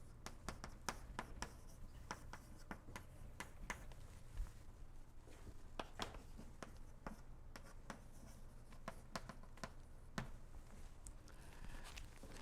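A pen or chalk taps and scratches as a formula is written out during a mathematics lecture, quick irregular strokes and clicks close by in a quiet room, with no talking.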